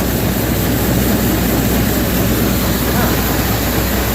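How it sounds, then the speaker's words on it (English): A tractor engine drones loud and steady, a constant low rumble without a break. "I'm gonna have to slow the tractor down."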